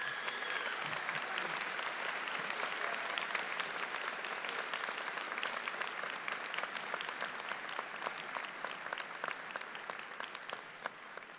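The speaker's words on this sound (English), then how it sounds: "please join me in another round of applause for our graduation speakers this morning" Sustained applause from a large audience at a high school graduation ceremony, dense even clapping that holds steady and loud from start to finish with no voices over it.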